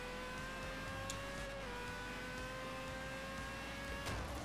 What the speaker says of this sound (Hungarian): most vettem csak észre, hogy mennyire jó hangja van ennek az autónak így a játékban is